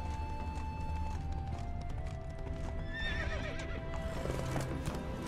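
Horse galloping in The Witcher 3 with a rapid clip-clop of hooves, followed midway by a loud neigh, over game music, with no speech.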